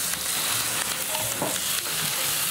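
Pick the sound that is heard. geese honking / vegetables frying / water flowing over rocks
vegetables frying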